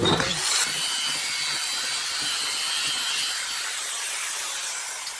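An HKS GT2835R turbo exhaust pipe is cut down with a power tool, giving a loud steady hissing, grinding whine that runs unbroken for several seconds and fades slightly toward the end.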